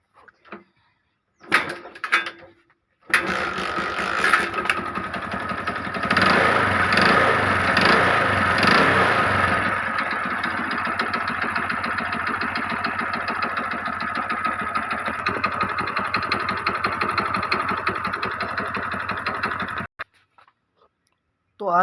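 A motorcycle engine is started after a few short bumps and clatters, then settles into a steady, close mid-pitched idle that runs evenly for many seconds before cutting off abruptly.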